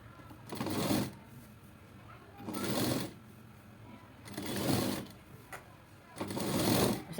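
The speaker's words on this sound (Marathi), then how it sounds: "अशा पद्धतीने आपल्याला दाब टिप देऊन घ्यायचे." A sewing machine stitching a blouse runs in four short bursts of rapid, even whirring, each about a second long, with quiet pauses between them, close and fairly soft.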